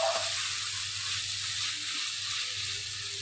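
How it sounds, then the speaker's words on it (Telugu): Raw prawn and mango curry being stirred in a pan as it finishes cooking, a steady soft sizzle and hiss running throughout at low volume, close and even without pauses. "దీంట్లో కొంచెం కొత్తిమీర వేసుకుని ఒకసారి మొత్తం కలుపుకుందాం"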